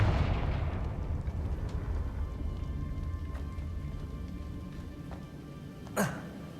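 Confringo fire spell in Hogwarts Legacy: a roaring, crackling rush of fiery noise loudest at the start that slowly fades, followed by a short sharp burst near the end.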